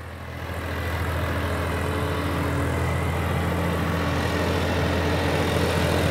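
A John Deere 5405 4x4 tractor pulls a 24-disc pressure harrow in a field, its diesel engine droning steadily at close range with a deep, constant hum that builds slightly over six seconds.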